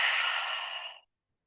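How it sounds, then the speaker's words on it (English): A single long, breathy exhale during a seated breathing exercise, soft and close, lasting about a second before fading into silence. "Nice long breath out."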